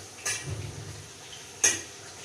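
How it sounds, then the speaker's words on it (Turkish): Two sharp metal clinks of a ladle against a pan while frying potatoes, spaced about a second and a half apart over a low sizzling background, close and fairly quiet. "Bir de kepçemi, kepçemi, kepçemi şöyle karıştırayım"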